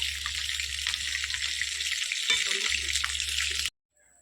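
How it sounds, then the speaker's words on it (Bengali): Rohu fish frying in hot oil in a home kitchen, a steady, close, bright sizzle with a low hum beneath that carries evenly and then cuts off abruptly near the end. "এবার মাছগুলো ভাজবো, একটু সময় লাগবে"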